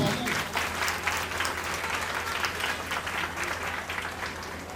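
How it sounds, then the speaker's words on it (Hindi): A crowd clapping loudly and steadily throughout for young children at a summer camp valedictory ceremony, a dense sustained round of applause. "तो एक बार नन्हे सितारों के लिए जोरदार ताली"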